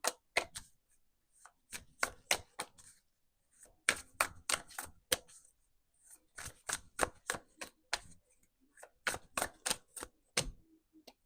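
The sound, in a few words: shuffling and drawing oracle cards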